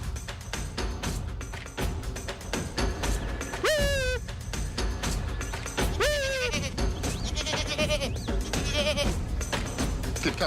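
Sheep bleating loudly twice, each cry a wavering call lasting about half a second, rising over a dense, busy background of music and crowd noise at a Long Island regatta.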